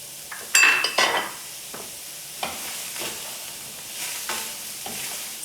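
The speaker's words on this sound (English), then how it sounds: "So I'm going to let that saute for a while" Diced celery, onion and carrots sautéing in a pan, with scraping stirs and clinks of a utensil against the pan over a soft, steady sizzle; a few louder strokes early on, then quieter, spaced stirring.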